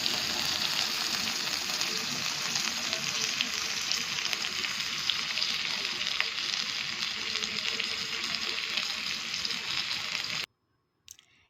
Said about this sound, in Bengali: আর তারপরে ফ্লেমটাকে হাই রেখে আবারও একটু কষিয়ে নেব